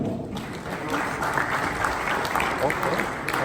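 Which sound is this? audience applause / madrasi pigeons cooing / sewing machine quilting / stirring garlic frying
audience applause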